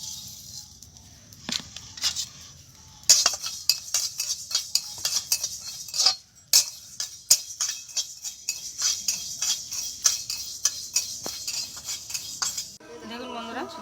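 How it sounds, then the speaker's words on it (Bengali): Whole spices are dry-roasted in a hot pan and stirred with a metal spoon, giving close, rapid clinks and scrapes against the pan with brief pauses between bursts. "আমার কড়াই গরম হয়ে গেছে, এবারে মশলাগুলো আমি শুকনো খোলায় টেনে নেব।"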